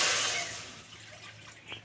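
Water pours into a wok in a short, close splashing rush that fades within about half a second, leaving a quiet background hum and a small clink near the end.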